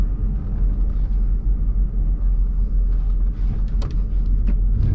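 Stock VL Commodore with an RB30 engine at a quarter-mile drag strip, idling in drive with a steady, loud low rumble that holds level throughout with no talk over it.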